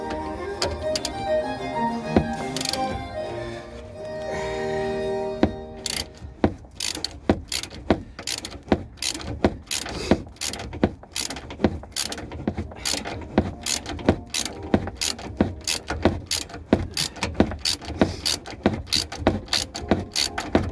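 A hand ratchet cranks on a 13 mm socket, loosening an anti-roll bar bolt on a Mercedes W202: after a few seconds of background sound comes a long, steady run of rapid clicks, close and crisp.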